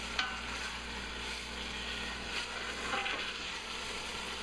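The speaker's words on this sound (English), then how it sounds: "pan's seasoned, it's nice and hot again, and so in goes the beef" Beef sears in a very hot seasoned pan while being stirred, giving a steady, close, broadband sizzle with occasional scraping stir sounds and no talking.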